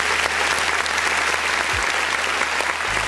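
Clapping during a live online music review stream, a loud, dense, continuous patter of hands that holds evenly throughout, with a brief low swoop and a low hum entering near the end.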